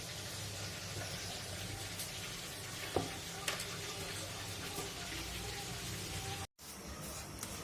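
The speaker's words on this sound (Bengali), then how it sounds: "শর্মার জন্য রুটিগুলো ভাজি করে নিচ্ছি" Flatbread for chicken shawarma fries in a pan with a steady, close sizzle, broken by a couple of light clicks and a brief dropout near the end.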